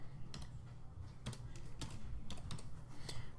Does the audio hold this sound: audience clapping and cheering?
no